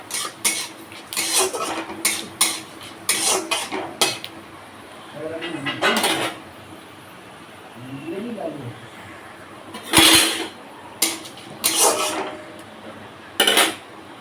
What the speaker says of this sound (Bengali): পাঁচফোড়ন দিয়ে দিলাম, পাঁচফোড়নটা একটু নাড়াচাড়া করে নেব।